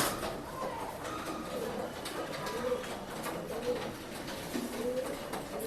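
Pigeons at a Bangalore pet shop coo softly and repeatedly at a moderate distance, the low, rolling calls overlapping against steady background hubbub and faint voices.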